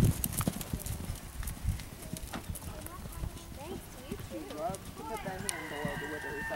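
Horse hooves thud in a rhythmic canter during a riding show, close and steady, while people talk over them.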